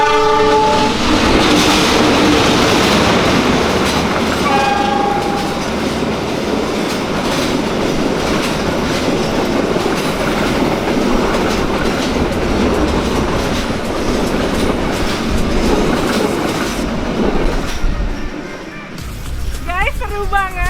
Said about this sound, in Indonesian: Kita makan di pinggir rel, terus kereta api lewat.